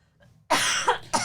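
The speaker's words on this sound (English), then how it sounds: "But I got a cough." A single sharp cough bursting out after a brief quiet, followed by a second shorter cough close to the mic.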